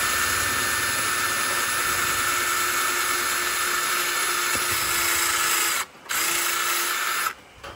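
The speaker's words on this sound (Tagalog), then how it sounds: "Lalapatan natin ng mas malaking mas malaking drill bit." A power drill with a larger bit bores a hole in acrylic sheet for a tarantula enclosure, a loud steady whine held for several seconds, cutting off twice with short pauses.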